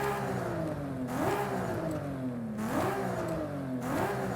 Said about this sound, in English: let's hear how much different it sounds with a single turbo versus the stock turbos